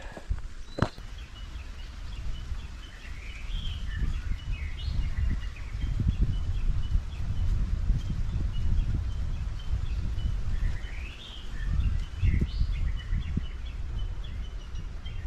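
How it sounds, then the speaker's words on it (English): Birds call in a Hawaiian forest on Maui or Kauai, several short chirping phrases repeating at a moderate distance over soft rustling, wind and the low thuds of footsteps on a trail. "The birds have a lot to say here."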